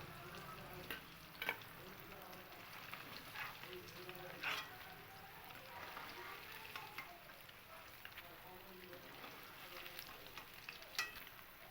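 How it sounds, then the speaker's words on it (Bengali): Paneer cubes frying in the same hot oil, giving a quiet, steady sizzle with occasional louder pops and stirring clinks throughout. "এবার ওই একই তেলের মধ্যে আমি বাকি যে পনিরগুলো আছে সেই পনিরগুলোকেও কিন্তু ভেজে নেব।"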